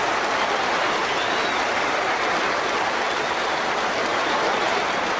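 Steady, dense applause from the Oval crowd at a Test cricket match, greeting Michael Hussey's century, a loud continuous wash of clapping with no breaks.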